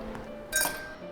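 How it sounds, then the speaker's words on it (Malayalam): A single bright clink of an ice cube striking a glass for watermelon juice, short and close, in an otherwise quiet room. "ഞാനിപ്പോൾ ഗ്ലാസ്സിലേക്ക് കുറച്ച് ഐസ് ക്യൂബ്സ് ഇട്ട് കൊടുക്കുന്നുണ്ട്"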